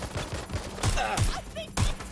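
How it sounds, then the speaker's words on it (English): Gunfire from a shooter in the game Watchdog comes in sharp bursts of several rapid shots, close and loud, with brief voice sounds between bursts. "There's a shooter out here."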